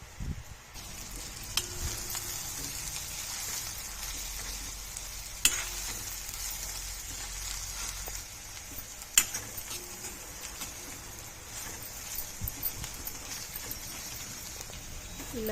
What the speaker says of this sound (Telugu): ఇలాగ కలుపుతూ ఒక 4 మినిట్స్ వరకు ఫ్రై చేసుకోవాలండి.